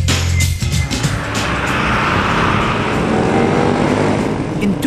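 A car with a powerful engine drives by, a loud, steady broadband road roar that swells and holds close for several seconds after a brief quieter moment.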